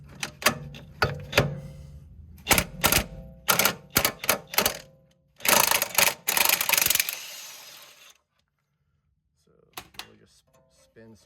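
Impact wrench rattling in repeated short bursts as it works the lower bolt on the rear camber arm of a 2005-2013 Mazda 3, loud and close, stopping abruptly before a few faint clicks.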